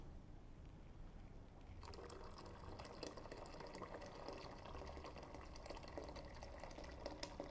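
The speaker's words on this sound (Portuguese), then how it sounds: "Quando fica mais uniforme, acrescentamos a água fervendo." Boiling water starts pouring steadily into a pot of tomato soup after a quiet moment, a continuous close splashing rush with faint clinks, no voices.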